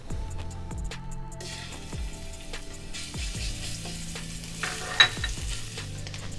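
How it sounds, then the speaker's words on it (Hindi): Steady sizzling of garlic ginger paste frying in hot oil for chicken Manchurian, with rhythmic scraping and stirring of a spoon in the pan. "2 से 3 चम्मच ऑयल के डाल के लहसुन अदरक का पेस्ट डालेंगे इसके अंदर।"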